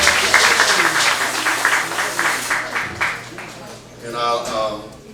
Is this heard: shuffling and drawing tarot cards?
no